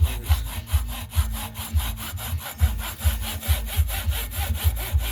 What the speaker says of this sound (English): It's the old hacksaw.